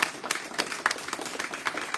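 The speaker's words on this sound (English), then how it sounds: "let's give yourself a round of applause for electing Allison Cartwright to SJC Clerk for Suffolk County" Audience clapping at a progressive ballot forum in Jamaica Plain, with scattered individual claps forming a moderately loud, irregular burst that fills the moment without voices over it.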